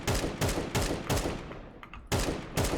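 Repeated bursts of gunfire in Counter-Strike 2, fired while strafing, arrive as about five loud, evenly spaced volleys separated by brief pauses.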